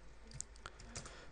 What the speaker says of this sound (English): I'm going to type in here Marek Mularczyk